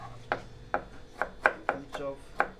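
Knife chopping vegetables such as carrot in an Indian hotel kitchen, about six crisp, close strikes on a board at an uneven, brisk pace with faint kitchen background between them.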